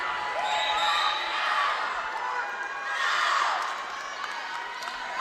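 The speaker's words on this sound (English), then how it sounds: "Moorer, she is blocked at the net, and the Seven Lakes crowd likes that." A high school girls' volleyball crowd at Seven Lakes cheers and whoops after a block at the net during a 6A bi-district playoff match, in two swelling waves, fairly loud, with shouts mixed in.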